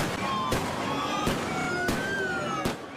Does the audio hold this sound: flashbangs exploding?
yes